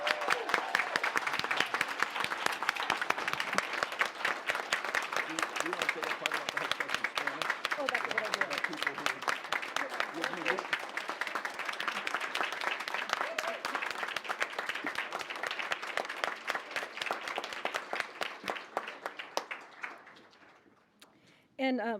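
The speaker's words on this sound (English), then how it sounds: "Can we give them a big round of applause?" Audience applause at a regional color guard drill competition in Delaware, a dense, sustained burst of clapping from a large crowd lasting about twenty seconds before fading away, with a voice starting up at the very end.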